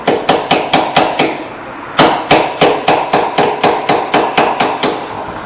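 A hammer taps a rear brake bar back into place on a 2010-2015 Kia Rondo, giving loud, close, evenly spaced metallic strikes in two quick runs of about seven and eleven blows.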